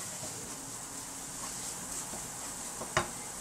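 Flour is stirred and toasted in a pan, a spoon scraping softly and steadily over a faint sizzle. A single sharper clink sounds near the end, and no one talks.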